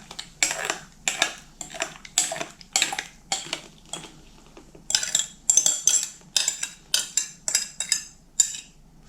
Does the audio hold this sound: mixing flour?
yes